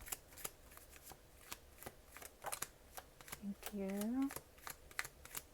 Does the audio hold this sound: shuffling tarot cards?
yes